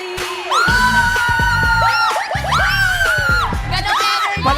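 A family on a Filipino noontime game show in a studio cheers, whoops and shouts loudly, with bursts of high-pitched yelling over steady crowd noise and music.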